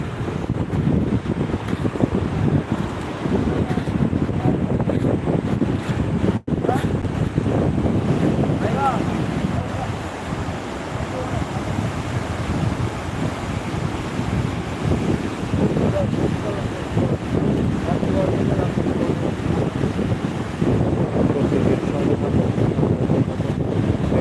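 Sea waves and gusting wind fill the night air on Digha beach, a continuous loud rush of surf with heavy wind buffeting the microphone, while a voice talks intermittently over it.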